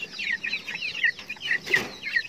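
Chickens of Siamo asil and Belgian breeds cluck in a close, busy run of repeated short calls, with one louder squawk near the end.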